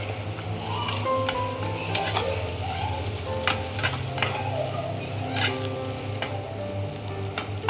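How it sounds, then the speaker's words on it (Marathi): Spices frying slowly in oil over low gas heat for a paneer vegetable pulao, a soft continuous sizzle broken by sharp clicks and scrapes of a spoon stirring against the pan. "हे मसाले छान असं परतू द्यायचं आहे 1 मिनिटपर्यंत स्लो गॅसवरती तेलामध्ये"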